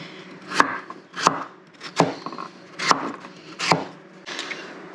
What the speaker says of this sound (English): So I'm going to cut some of these one more time